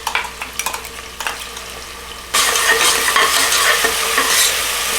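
Green masala paste for prawn rice sizzles loudly in a pan, starting after a few stirring clinks and scrapes, then holding a steady close frying hiss to the end.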